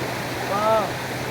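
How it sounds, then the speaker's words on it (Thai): River water rushes steadily below a waterfall in a rocky Thai forest stream, a constant close hiss with a brief tonal chirp or voice fragment in the middle. "นี่มันจะเป็นแม่น้ำไหลเลย"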